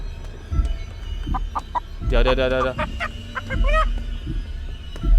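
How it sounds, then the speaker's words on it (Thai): Chickens raised on an experiment farm cluck and squawk close by in a dark spot, a burst of loud rapid calls in the middle with scattered clucks around it, while a man whispers over them. "เสียงไก่"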